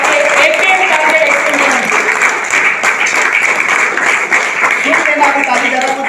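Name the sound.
audience applause at a business seminar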